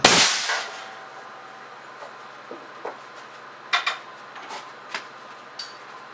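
An air cannon fires a 565-caliber 500-grain hard cast lead slug into a bathroom sink, opening with a sharp loud blast, followed by scattered metallic clinks and ringing clangs of falling debris over several seconds.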